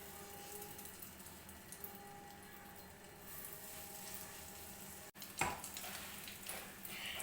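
Paneer pieces fry in butter in a pan, giving a soft, even sizzle that is faint and fairly distant, with a brief clatter partway through as the pan is handled; nobody speaks.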